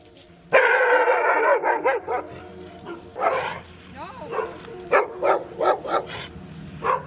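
A dog barks close by in a driveway, with a loud burst of barks followed by a run of shorter barks and yips at an uneven rhythm.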